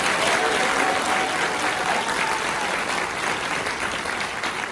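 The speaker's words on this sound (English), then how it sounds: "Round of applause for them" A large audience at a Marine Corps Birthday Ball ceremony applauds the 1st Marine Division Band, producing dense, steady clapping that stays loud throughout and eases slightly toward the end.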